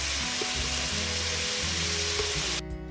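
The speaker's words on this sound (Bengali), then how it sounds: "সবজিগুলো খুব সুন্দর ভাজা হয়ে গেছে," Vegetables sizzle loudly in a pan while frying for sweet fried rice, a dense continuous crackle with stirring knocks underneath, close and steady before easing near the end.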